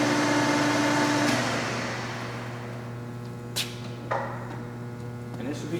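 A Sheldon R-15 15-inch by 40-inch lathe running at a low 200 RPM gives a steady mechanical hum with a clear tonal drone that eases down partway through, and a few light knocks and clicks follow.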